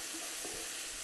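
Rice frying in a pan with bacon, a faint steady sizzle with light stirring and no voices.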